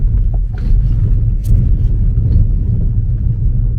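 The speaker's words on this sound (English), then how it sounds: "So hold on while we spin the tires." A Tesla Model S P100D spins its tires at takeoff, half on dirt and half on pavement, producing a loud, steady low rumble that continues unbroken for a few seconds with no voices.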